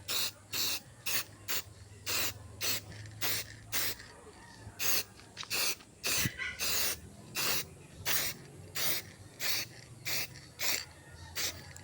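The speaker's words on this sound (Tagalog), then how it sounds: "So ganito lang tayo mag spray" A bracket gets coated with high-temperature spray paint in short, evenly spaced hissing bursts from the can, about twenty quick puffs with brief silences between, close and crisp with no talking.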